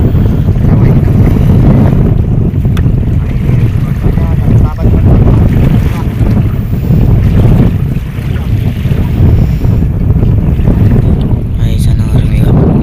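Strong wind batters a small fishing boat at sea in bad weather as big waves surge around it, a loud, steady roar of gusts and churning water throughout, with faint voices mixed in.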